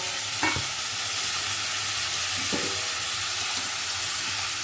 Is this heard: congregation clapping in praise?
no